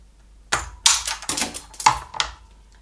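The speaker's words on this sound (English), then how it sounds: "take a spoon and the scissors, and then you cut off this part" Scissors snipping through a plastic spoon for a sunflower mirror decoration: a handful of sharp, separate clicks and crunches, close and fairly loud, with short silent gaps between them and no talking.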